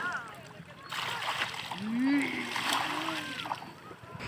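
Water splashing at the sea as a mother throws water at someone on the beach, a few close splashes and sloshes with voices and a squeal around them.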